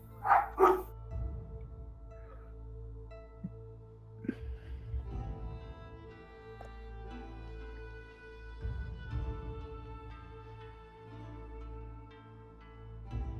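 A dog barks in a loud quick burst of two or three barks near the start, followed by a few fainter single barks amid background room noise, with no talking over it.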